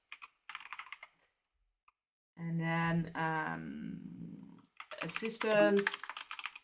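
Fingers click on a computer keyboard in a short run of light keystrokes, then a person speaks over the rest, with a few more clicks mixed in near the end.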